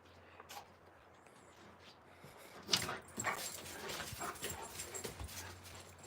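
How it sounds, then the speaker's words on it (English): Alaskan Malamute puppies whimper, yip and scuffle close by at a window in a home, with soft rubbing and panting and a few louder bursts of yelps later on. "Come on, puppies."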